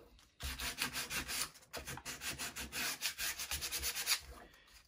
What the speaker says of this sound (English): So here I'm gonna put a little bit of sandpaper to the toothpicks.